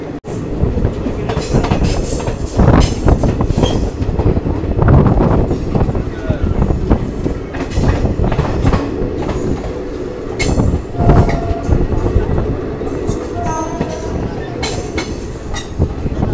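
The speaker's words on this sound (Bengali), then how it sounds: "এই এখন ট্রেনটা ছাড়লো" A long-distance passenger train on the Amritsar–Haridwar route rolls into Dhandari Kalan station, its steady loud rumble carrying wheel squeals and clattering carriages throughout, with voices talking faintly beneath.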